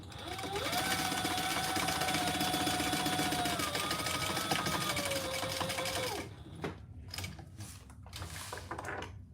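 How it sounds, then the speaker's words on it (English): A sewing machine stitches the sides of a Monarch Mini sewing project, whirring loud and close in one continuous run for about six seconds before stopping, followed by a few quieter clicks and handling noises. "now let's sew the sides."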